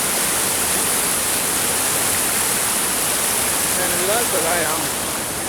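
Glenashdale Falls on the Isle of Arran pours down in a fast river, a constant, powerful hiss and roar of water heard up close, while someone talks briefly under the din near the end.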